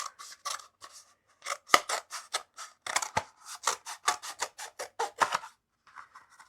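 Scissors snip through plant wrap meant for a tomato stem, a quick close run of about twenty crisp cuts with brief pauses between them, heard alone.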